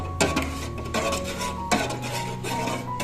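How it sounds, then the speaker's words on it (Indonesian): A spoon scrapes and clinks against a metal pot while agar-agar powder is stirred into water, several sharp knocks of utensil on pot over a quieter swirling stir. "Kemudian kita aduk hingga tercampur rata."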